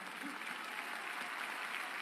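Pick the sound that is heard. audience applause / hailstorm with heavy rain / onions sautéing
audience applause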